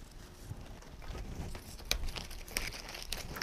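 Hydrangea leaves pulled from a cut miniature stem while arranging a harvest centerpiece, heard as close, quiet crinkling and rustling with several sharp tearing snaps.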